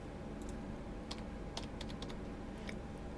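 Fingers typing on a computer keyboard while searching in flight-sim setup software, a few faint clusters of quick key clicks spaced over a quiet, steady background hum.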